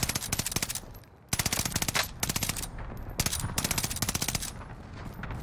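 Cooper Carbine fired in Warzone at long range, sharp rapid automatic bursts in several strings with brief pauses between, loud and close.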